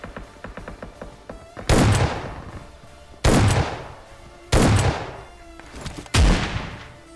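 Gunfire in the mobile shooter FAU-G: four loud, sharp shots or bursts spaced roughly 1.5 seconds apart, each with a long decaying tail, over quieter game background sounds.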